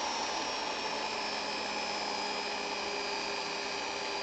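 An electric drill spins steadily to polish an airbrush needle held with light finger pressure, giving a constant, even whirring hum close by with no talk.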